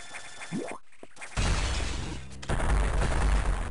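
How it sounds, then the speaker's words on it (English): Explosion in the Metroid Fusion video game, a sudden loud burst of crashing noise following a short rising tone and brief silence, with a second heavy blast surging in about a second later. "For fuck's sake, an explosion?"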